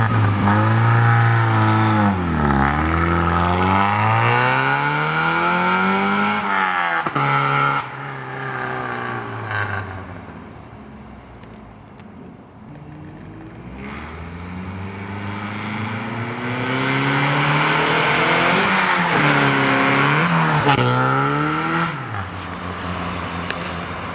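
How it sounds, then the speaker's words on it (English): An NA Mazda Miata fitted with a DIY catback exhaust is driven on a test ride: loud, close engine note rising and falling through repeated revs and gear changes, easing off midway before building again, with no voices. "Taking it for the first test ride, and we'll see how it does driving."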